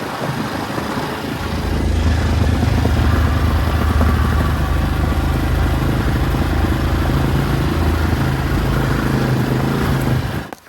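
A motorcycle rides downhill through the Gorafe desert in Andalusia, southern Spain, its engine a steady, loud mid-pitched drone mixed with rushing wind noise that holds for several seconds before cutting off abruptly.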